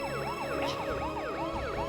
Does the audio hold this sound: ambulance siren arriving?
yes